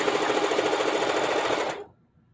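A sewing machine back stitches the fabric of a homemade rice bag, making a loud, steady, close-up whirring hum that runs for under two seconds and then stops abruptly.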